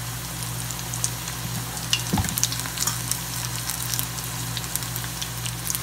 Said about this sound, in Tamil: இப்போ நம்ம பக்கோடாவை பொரிச்சுக்கலாம்